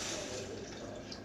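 Water being poured and mixed into Coca-Cola, a steady close liquid trickle with faint dripping, brief and continuous with no talking.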